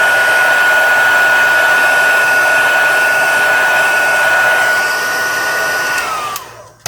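A heat tool blows hot air onto embossing powder on a stamped card, a loud, steady close-up whoosh with a constant whine that lasts about six seconds before winding down.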